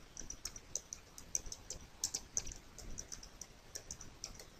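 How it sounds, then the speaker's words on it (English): Rapid, irregular keystrokes on a computer keyboard patter quietly and steadily throughout, close by and alone, as a search is typed in. "type in what your interests are"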